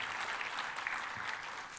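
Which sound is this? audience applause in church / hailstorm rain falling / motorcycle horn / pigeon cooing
audience applause in church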